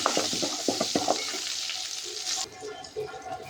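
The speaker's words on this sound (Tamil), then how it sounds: "எண்ணெய் சூடானதும் கடுகு சேர்த்துக்கலாம். கடுகு பொரிஞ்சதும் வெங்காயம் சேர்த்துக்கலாம்." Mustard seeds spluttering in hot oil in a kadai while making drumstick kara kuzhambu: a bright, hissing sizzle with several sharp popping crackles early on, then a softer, fading fry.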